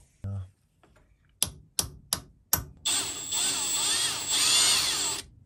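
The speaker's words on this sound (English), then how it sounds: "then we'll get drilling" A few sharp clicks, then a power drill whirs loudly and continuously for a couple of seconds, its pitch wavering as it bites, drilling into a round column milling machine.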